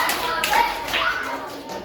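Children at an elementary summer Bible school clapping in a quick rhythmic attention pattern, several sharp claps blending into a room of young voices and chatter.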